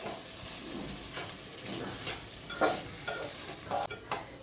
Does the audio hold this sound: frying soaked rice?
yes